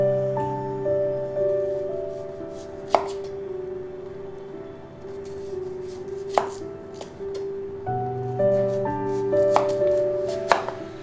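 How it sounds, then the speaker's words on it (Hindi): Knife chopping medium-sized onions into round slices, with a few distinct sharp cuts spaced several seconds apart, heard close under steady background music. "प्याज को पहले हमें गोल गोल स्लाइस कर लेना है"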